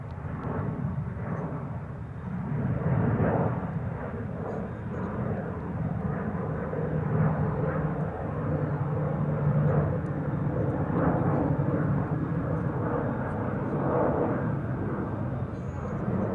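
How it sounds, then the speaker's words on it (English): A Transavia Boeing 737-800 airliner in special livery at Schiphol Airport gives a steady, loud engine roar that holds across the whole stretch without a break, with no talking over it. "737-800 Transavia special livery."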